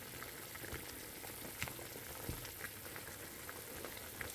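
Water boiling in a pot for cooking, a constant low bubbling simmer with small scattered pops and ticks, fairly quiet and steady throughout.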